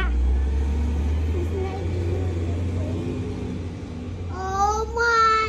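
A garbage truck idles and rolls along a street, a steady low engine rumble close by, while a voice chatters over it near the end.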